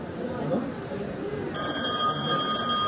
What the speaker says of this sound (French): on leur fait sonner le téléphone.